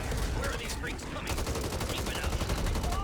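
Rapid automatic gunfire aimed at a zombie in Back 4 Blood hammers out in a loud, steady stream of regular shots, with voices talking over the shooting.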